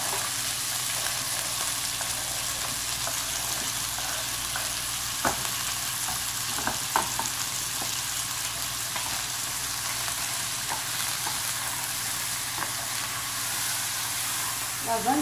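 Dried onion frying in a pan while being stirred, a steady close sizzle with occasional clinks and scrapes of a utensil, and faint talking in the background.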